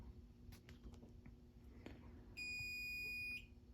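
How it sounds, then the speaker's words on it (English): A high electronic fire alarm system tone sounds once for about a second during a walk test, clear and steady over quiet background noise with a few faint knocks. "And you will hear that beeping."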